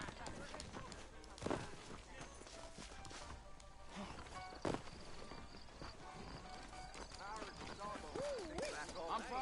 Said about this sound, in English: I got the horses saddled up and ready out front.